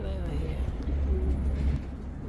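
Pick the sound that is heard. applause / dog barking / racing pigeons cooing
racing pigeons cooing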